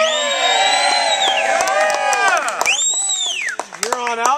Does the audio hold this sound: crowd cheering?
yes